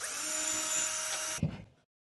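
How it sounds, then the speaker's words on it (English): A small electric screwdriver whirs steadily for over a second while unscrewing parts of an electric curtain pole, then stops with a short clunk and rattle. "Unscrew it."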